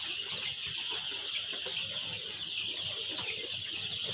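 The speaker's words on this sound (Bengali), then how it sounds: "আমার এখানে 1000 মুরগি আমি ফেলাইছি এই সেটের মধ্যে" A shed of about a thousand fifteen-day-old brown cock chicks clucks and peeps continuously, a dense, steady chorus of many birds close by, with no talking.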